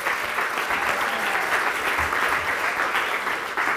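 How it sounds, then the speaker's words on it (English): An audience at a public lecture on East and West gives a full round of applause, a dense, steady wash of clapping from a sizeable crowd that stays even in loudness throughout. "A big round of applause, please, for Michael George."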